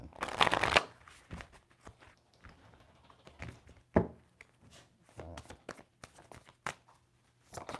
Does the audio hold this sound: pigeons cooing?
no